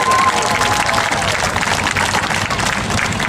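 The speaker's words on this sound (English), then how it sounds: "So clap now" A large crowd at an aquarium show in Baltimore's Inner Harbor claps and cheers loudly and continuously, a dense wash of applause close by with a few scattered voices mixed in.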